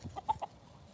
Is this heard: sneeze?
no